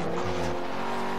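Forza Horizon 3 car braking hard at the last second, engine roaring with a brief tire squeal, loud and close in a busy racing mix.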